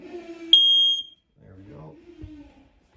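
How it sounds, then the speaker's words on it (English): A single high-pitched smoke alarm beep sounds for about half a second inside a travel trailer, between stretches of quiet speech. "Right above our heads here, we've got your smoke detector."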